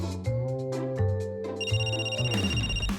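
A mobile phone rings from inside a bag, its bright electronic ringtone repeating in a steady melodic pattern that stays loud and close for the whole stretch, with no talking over it.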